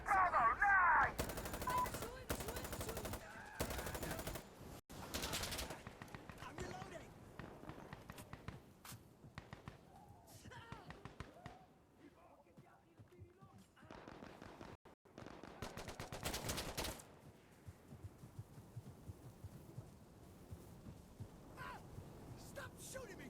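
Bursts of gunfire from Insurgency Sandstorm, several sharp volleys and rapid automatic strings scattered through the clip, loud at times with quieter stretches between, alongside players talking.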